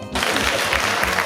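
Applause breaks out at a first ordinary general assembly of an association, starting abruptly after a brief quiet moment and holding as a steady, fairly loud wash of clapping for about a second.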